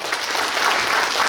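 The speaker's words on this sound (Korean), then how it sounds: "그 앞에 계신 동지들을 위해 힘찬 박수 부탁드립니다." Applause from the delegates at a union branch delegate meeting in Gyeongju, a dense steady patter of many hands clapping together, close and continuous through the whole moment.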